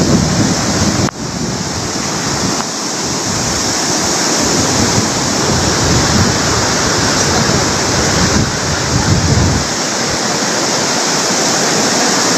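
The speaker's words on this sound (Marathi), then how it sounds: "हे पाणी अचानक, ह्या पूर आला आणि अचानक पाणी शिरलं." Floodwater rushing after a cloudburst downpour swamps farmland and a cattle shed, a loud unbroken roar of churning water with wind buffeting the microphone throughout, no voices.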